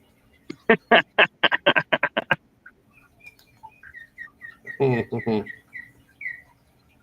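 Several birds chirp around a bird feeder where a blackbird hangs: a quick run of about a dozen sharp calls, then scattered faint tweets and a brief raspy burst, with no voices.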